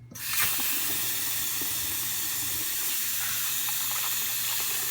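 Tap water runs hard and continuously into a sink while soaked South American sea cucumber is rinsed, a close, steady hissing gush that starts suddenly and holds.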